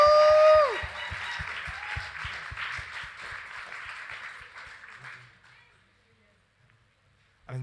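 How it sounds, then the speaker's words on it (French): A church congregation applauding, a broad round of clapping over steady low rhythmic thumps that fades out gradually, with a voice at the very start. "On peut les applaudir,"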